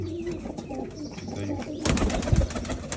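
Breeder pigeons coo in low, soft rolling calls close by, joined by wing flutters and shuffling that grow louder toward the end.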